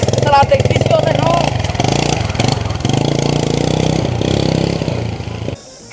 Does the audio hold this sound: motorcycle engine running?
yes